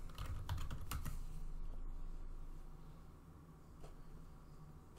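A short burst of typing on a computer keyboard while entering a search for Ubuntu, a quick cluster of close key clicks that fades to a quiet hum, with no speech.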